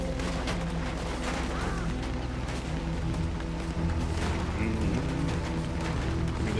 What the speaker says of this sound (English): Pinkerton boys shooting this place up